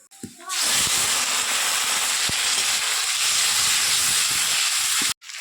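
Onion frying in hot oil with fish fat (মাছের তেল) added to the pan, a loud steady hiss and sizzle that starts abruptly, holds for about five seconds with faint crackles, then cuts off.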